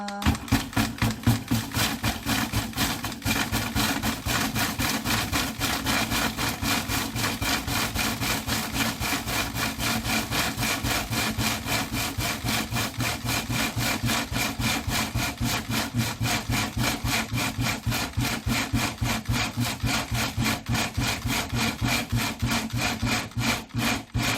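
Cheongyang green chili peppers are ground finely for Korean chili syrup in a steady, loud, rhythmically pulsing mechanical grinding drone that continues without a break, with no voices.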